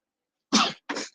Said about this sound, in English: I sneeze all of a sudden.